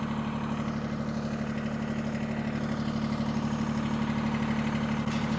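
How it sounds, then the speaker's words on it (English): A tractor engine idles steadily outdoors on a nature trail, a constant low rumbling hum with even vibration and no speech. "get the tractor turned around"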